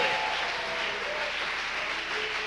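Church congregation clapping together during a sermon, a steady, continuous wash of applause from a crowd, moderately distant and even in level throughout.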